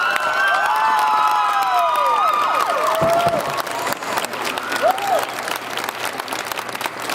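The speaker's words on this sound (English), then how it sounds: "Give your current state officers a round of applause for giving you such a great convention." Loud applause and cheering for state FFA officers at a convention, with whoops and high shouts over steady crowd clapping throughout.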